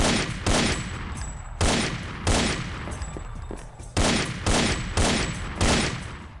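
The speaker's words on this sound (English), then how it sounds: "the hand cannon sound effect is almost too good for what amounts to the basic pistol" Heavy, punchy hand cannon pistol shots from the Heavy Metal F.A.K.K.² game fire in a steady string of about eight loud blasts, each with a booming decay into the next.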